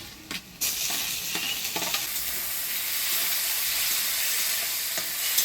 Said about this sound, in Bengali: এবারে দিয়ে দিব টমেটো।